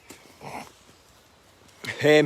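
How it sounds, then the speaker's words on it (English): Dogs barking and whining around a player during a shooting video game, with short bursts near the start and a louder cluster at the end under spoken talk. "I'm getting attacked from dogs from all angles"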